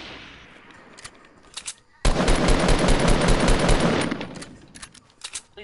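Sustained burst of video game gunfire erupts suddenly, roaring dense and loud for about two seconds before tailing off, with sparse clicks and faint shots before and after.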